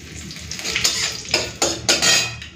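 Whole cumin seeds crackle and spit in hot oil in a wok along with dried red chillies and bay leaf, a close, steady sizzle broken by several sharper bursts and pops, no voices.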